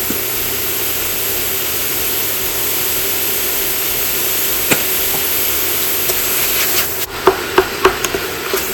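Seasoned ground beef simmers in a pan with a steady broadband hiss and bubbling, alone with no talk, joined near the end by a few sharp clicks and knocks of kitchen handling.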